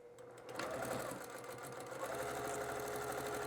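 A sewing machine top stitching a patchwork drawstring bag, running at a steady fast hum with a rapid mechanical needle rhythm, close and continuous, with no talking.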